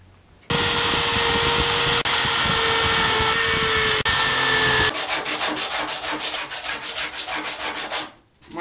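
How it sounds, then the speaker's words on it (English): An electric drill bores through a wooden mini longboard deck with scrap wood underneath, giving a loud, steady motor whine for several seconds, then a run of fast rhythmic rasping strokes before stopping. "So when I drill, I use a piece of wood under it."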